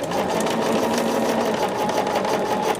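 A sewing machine stitching fabric, a loud, close, continuous mechanical whir with a rapid, even needle rhythm that runs without a break, with no voices.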